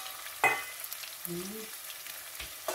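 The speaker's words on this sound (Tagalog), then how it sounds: "gisahin lang natin mabuti ang bawang sibuyas" Garlic and onion sauté in a pan with a quiet, low sizzle under a few sharp stirring clinks of a utensil against the pan.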